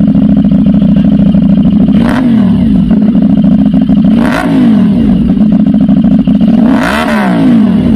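Exhaust of a 450 SR motorcycle with a 449.5 cc 270-degree crossplane twin engine, running at a loud, gruff, steady idle, blipped into three sharp revs that rise and fall roughly two seconds apart.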